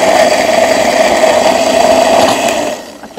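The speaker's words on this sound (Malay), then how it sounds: "Ready untuk kita kisar. Kisar jangan terlalu lumat." Kitchen blender grinding red bird's eye chilies, large red chilies, shallots and garlic with a little water, a steady loud motor whir running continuously for about three seconds before winding down.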